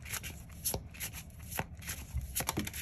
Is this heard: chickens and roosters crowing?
no